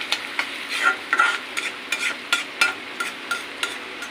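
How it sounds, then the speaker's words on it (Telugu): Onions frying in a pan are stirred with a utensil, giving a soft, close sizzle broken by repeated scraping strokes at an uneven, brisk rhythm, with no talking. "మనం ఇట్లా ఉల్లిగడ్డలు కలుపుతూ ఉండాలి, లేదంటే మాడిపోతాయి."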